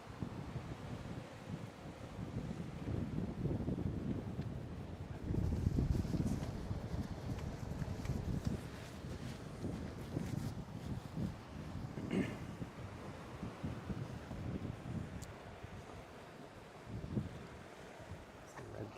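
Gusty wind buffets camera gear outdoors at a Kona, Hawaii sunset, a low rumbling roar that surges and eases over about twenty seconds, with faint voices in the background.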